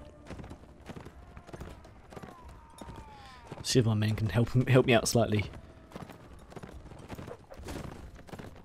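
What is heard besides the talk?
horse hooves galloping in video game Mount&Blade: Warband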